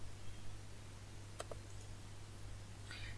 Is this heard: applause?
no